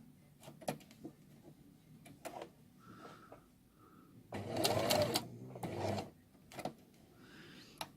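A domestic sewing machine runs a zigzag stitch on fabric for a cloth doll, with short bursts of rapid mechanical ticking separated by pauses and small clicks, quiet and close.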